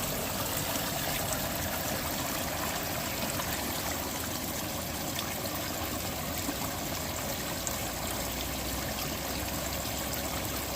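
Small waterfall splashing steadily close by while a Pathfinder canteen is filled from it, a loud continuous rushing wash of water with no letup.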